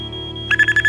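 Video game alarm system being disarmed with a code: a steady electronic alarm tone gives way to a series of short, rhythmic keypad beeps, loud and close.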